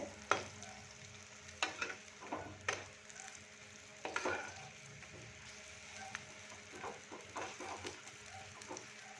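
Eggplant sizzles and crackles steadily in a hot pan, with a few sharp clanks and scrapes of a lid or utensil over the frying.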